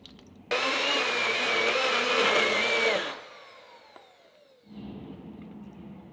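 A blender whirs loudly for about two and a half seconds, mixing a vanilla smoothie with almond milk, then winds down with a falling whine, followed by a quieter hum.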